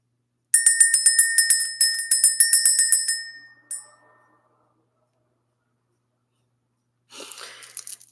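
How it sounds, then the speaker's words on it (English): Bright, high bell strikes repeat in a quick rapid ringing burst lasting a few seconds, followed by one isolated ring, then silence before faint soft breathy rustling; clear and close, with no talking. "I could hear the bell"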